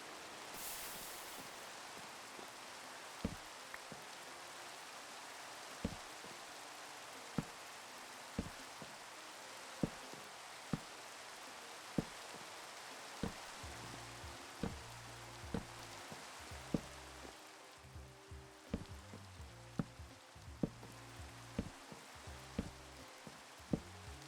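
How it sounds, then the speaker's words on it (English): Rain falls in the Minecraft video game as a steady soft hiss, with sharp periodic clicks and low rumbling in-game tones joining partway through, and no voices. "Oh, and it's raining."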